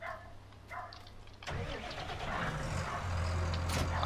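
Tractor engine starting in Farming Simulator 19: a brief crank catches and the engine rises into a steady mid-pitched rumbling idle that holds to the end, with a voice talking faintly over it.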